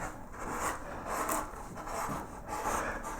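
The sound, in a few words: carving wood petals of a daisy-like flower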